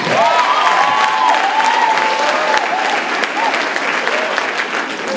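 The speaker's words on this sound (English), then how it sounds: "A round of applause for that." An audience at an alumni day gathering breaks into loud, continuous applause, with dense clapping throughout, a few whistles and faint cheers rising over it before it eases slightly.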